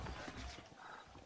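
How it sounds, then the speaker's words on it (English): A horse in the Western video game Red Dead Redemption gallops and crashes into a post, with clip-clopping hooves and a brief whinny at close range, mixed with game ambience and no talk. "My horse just jumped right into that post."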